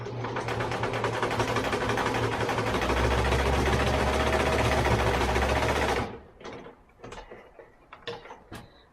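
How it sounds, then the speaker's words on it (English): Domestic sewing machine running steadily for about six seconds while top-stitching over the leg seam of a plush toy, a loud continuous mechanical whir that then cuts off, leaving a few faint handling clicks. "I've just stitched over top of that seam"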